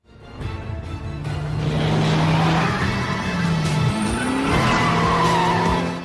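A car speeds down a road in a drama scene, with tires skidding and squealing over a loud, steady engine roar that stays close for the whole stretch.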